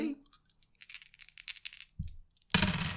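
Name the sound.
dice being rolled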